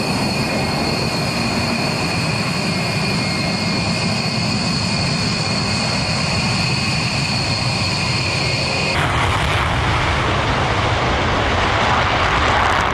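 Roar of U.S. Air Force B-1B Lancer bombers and escorting fighter jets flying over international airspace near North Korea, a steady broadband engine rumble that brightens and intensifies partway through, with no talking.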